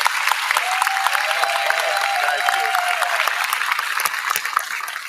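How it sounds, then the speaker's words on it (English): An audience at a live podcast event claps loudly and continuously for several seconds, with a thin whistle-like tone briefly audible above the dense applause. "let's get a round of applause ready."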